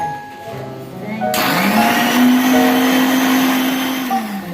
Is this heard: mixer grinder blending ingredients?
yes